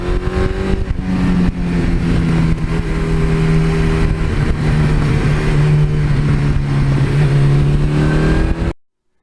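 A 1982 Suzuki GS1100E street bike engine revs close and loud, blipping the throttle early and then holding a strong, steady drone before cutting off abruptly at the end.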